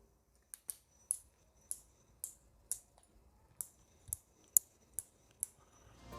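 A Cafesing Orca G1 manual flat-burr coffee grinder gives a series of about a dozen crisp, close clicks at an uneven pace as its burr mechanism is turned closed, with no talking.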